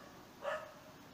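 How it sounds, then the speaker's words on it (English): A dog gives a single short bark at moderate distance, brief and clear against a quiet, faint background. "let's see if this dog stops barking."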